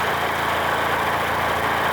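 Tired, worn 78-year-old generator engine running overloaded and smoking, a steady loud low drone with rhythmic firing pulses throughout, no voices.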